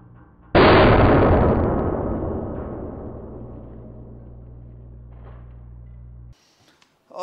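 Books burst apart under a hydraulic press with a sudden loud crack, followed by a long fading rumble and rattle of scattering paper as the press motor hums steadily, then cuts off near the end.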